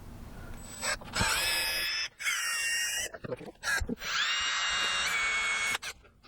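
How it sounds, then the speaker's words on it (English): A power drill whirs in several bursts of a second or so each while boring holes to attach a Ram Mount Tough-Track iPad mount, close and fairly loud, with short pauses and handling noises between the runs. "we're gonna drill."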